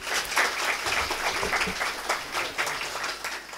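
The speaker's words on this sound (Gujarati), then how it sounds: "તાળીઓના ગડગડાટથી આ લેખકોને વધાવી લઈએ" An audience at a Gujarati literary event applauds writers seated on stage, a continuous, even roar of many hands clapping from a crowd filling the room.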